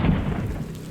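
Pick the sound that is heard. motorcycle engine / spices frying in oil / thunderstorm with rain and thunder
thunderstorm with rain and thunder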